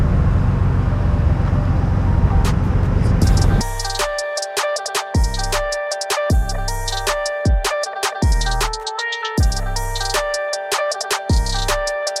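A Camaro SS drives up outdoors, its engine noise steady for a few seconds before giving way to a run of sharp, rhythmic metallic clanks and ticks with ringing tones.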